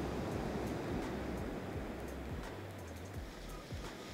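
Ocean surf rolls onto the shore in a soft, continuous wash with faint low swells, steady and distant, and no voices present.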